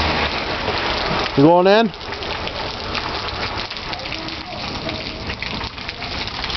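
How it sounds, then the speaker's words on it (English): Steady outdoor rain hisses continuously, close and moderately loud, while a voice briefly rises above it and people talk nearby. "It's raining out."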